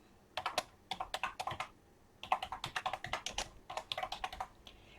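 Close, crisp keystrokes on a computer keyboard come in quick bursts of clicks, with a short pause before another run of typing.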